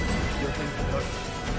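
A horse whinnies in the Assassin's Creed video game, a loud neigh over busy game noise with crashing sounds throughout.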